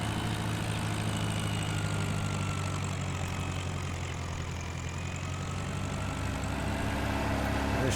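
A tractor engine idles steadily in the farming game Farming Simulator 19, a constant low rumble with a droning hum that holds at an even level throughout, with no talk over it.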